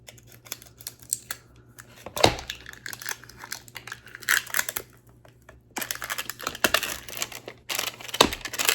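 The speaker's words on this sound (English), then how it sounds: "the first step that we want to do is take this tape off" Resin tape being peeled off a silicone mold, close crinkly tearing and crackling in irregular bursts with quiet gaps between pulls.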